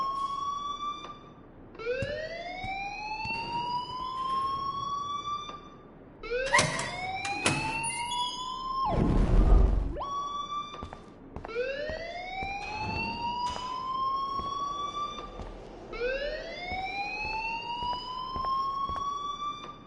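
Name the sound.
school alarm ringing in a video game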